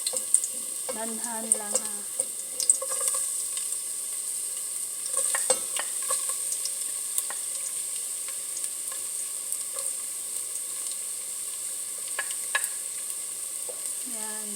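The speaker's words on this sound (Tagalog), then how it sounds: "So, ngayon, mainit na yung cooking oil natin. Ilagay na natin yung garlic." Chopped garlic frying in hot cooking oil for chicken adobo, a steady soft sizzle with a few clinks of stirring, while a voice speaks briefly at the start.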